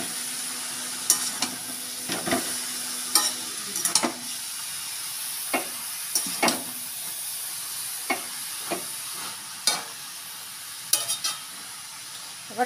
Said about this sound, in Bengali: কপিগুলো দিয়ে দিয়েছি, ভালো করে নেড়ে মিশিয়ে দেবো।